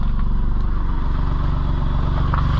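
A John Deere Gator 835-series side-by-side utility vehicle engine runs steadily up close, a dense, even drone with rattling clatter and no pauses.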